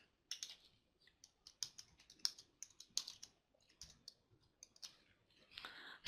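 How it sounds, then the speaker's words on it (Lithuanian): Crisp, close keystrokes on a computer keyboard as a search word is typed into a government services portal, irregular clicks in quick clusters with short pauses and one sharper final tap, no voices. "Įvedu žodį deklaravimas."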